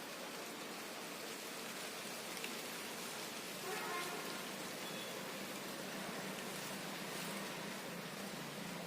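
Heavy rain falling on a mango orchard, a soft, steady hiss of drops that stays even and fairly faint throughout.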